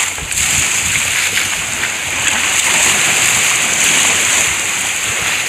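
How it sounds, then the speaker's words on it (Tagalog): Strong sea waves surge against the shore at Tabango, Leyte, a loud, continuous roaring wash of surf with steady broadband hiss and no pauses. "mag-ingat kayo sa malakas na alon"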